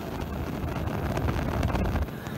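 Steady wind roars and rumbles against a stainless steel pilot light shroud outdoors, a continuous buffeting noise close to the microphone with no voices.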